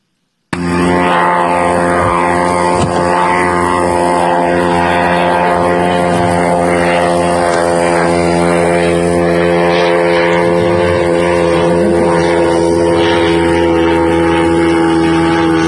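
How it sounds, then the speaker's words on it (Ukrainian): Drone flying past at night near a railway, a steady loud droning engine hum with layered tonal harmonics that holds for the full stretch, swelling slightly as it passes, no voices. "Також далі можемо побачити, як пролітає дрон, ймовірно, в сторону російського аеродрому."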